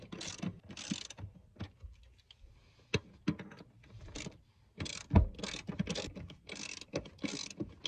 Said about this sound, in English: you will take a 15mm, tighten those down, just leave them a little snug